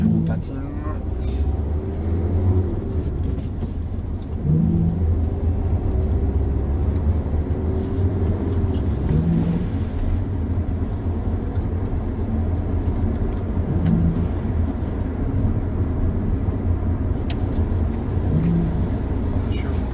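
Car engine running steadily at low speed during a driving test, a continuous low rumble inside the cabin with an instructor talking over it throughout.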